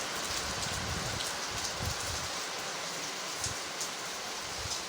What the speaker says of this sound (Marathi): धुक्यामध्ये वा छानसा असा पाऊस हलकासा पाऊस या ठिकाणी चालू आहे.